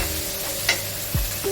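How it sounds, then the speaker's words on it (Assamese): Onion and green chili frying in a pan for a khidol fish dish, a steady soft sizzle with a couple of brief stirring scrapes and clinks, close and alone without talk. "এইটো ভালদৰে ভুনি ল'ব লাগিব"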